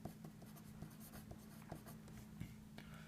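Pen writing on paper while working a calculus problem, a close, steady scratching with rhythmic strokes and taps over a low hum.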